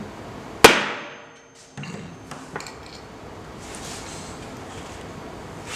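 Hammer driving the axle out of a Hope Pro II rear hub: one sharp loud metallic strike that rings and decays, then a few lighter knocks and clinks.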